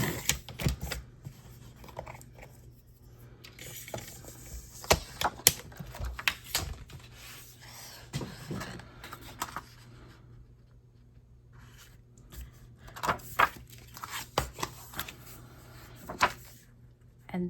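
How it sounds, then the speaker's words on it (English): Scissors or a blade trim a thin sliver from paper for a butterfly journal, a series of close, soft snipping and scraping sounds in uneven bursts with quiet gaps between. "let's just cut down a sliver off of this."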